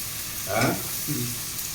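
Onions and garlic frying in a pan for a fish curry, a continuous sizzle with a couple of brief louder stirs or scrapes over it.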